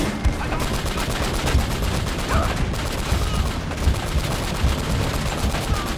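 Dense, continuous gunfire from the video game Uncharted: Drake's Fortune: rapid overlapping shots and bursts in a loud, sustained fusillade with no pauses.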